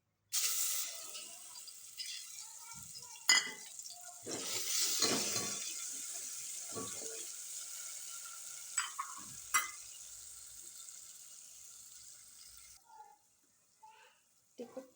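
Masala frying in hot oil gives a bright hiss that surges loudly, then settles into a quieter sizzle, punctuated by a few sharp clicks and stirring knocks before trailing off.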